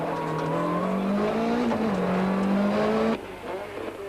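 Four-wheel-drive Class A rally cars climb a hairpin mountain pass at the 1993 Mountain Trail rally, one engine loud and close, revving hard with a steadily rising pitch before easing off near the end.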